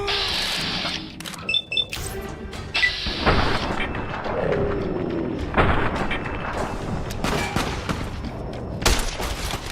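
Gunfire in Fallout: New Vegas: repeated sharp shots and heavier booming reports crack out at irregular intervals, close and loud, in a busy firefight.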